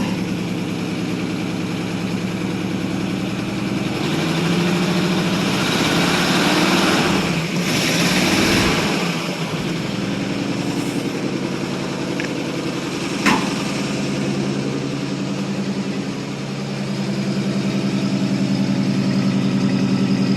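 A 1947 Ford Super Deluxe Flathead V8 engine, slightly smoking, idles steadily and loudly, a low rumbling drone that continues throughout with a slight surge in the middle.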